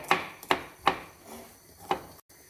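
Four sharp knife chops through garlic on a cutting board at uneven intervals, close and crisp, in a quiet room.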